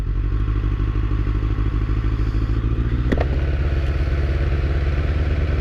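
A loud, steady Suzuki Katana motorcycle exhaust with the baffle removed, idling with a deep, throaty burble, a brief clatter partway through, no talking.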